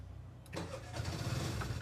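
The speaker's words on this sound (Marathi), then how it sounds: "झाले आपली रिक्षा स्टार्ट." An auto rickshaw engine in petrol mode cranks and catches, then settles into a steady close idle with a rough low throb.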